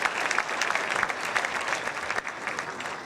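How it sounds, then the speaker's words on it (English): Audience at a high school awards evening applauding the award winners, dense clapping from a large crowd that carries on steadily throughout. "so please give everybody a big round of applause"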